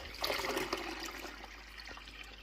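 Water trickles and splashes steadily as it is poured into the reservoir of a FOHERE ICM1250 countertop ice maker, close up with no talking.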